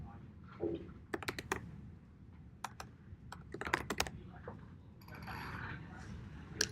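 Code being typed on a computer keyboard, quick bursts of crisp key clicks in irregular clusters separated by short pauses, close and fairly quiet.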